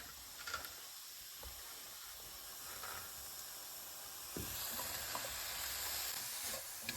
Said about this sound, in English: So I'm gonna throw my peppers in here.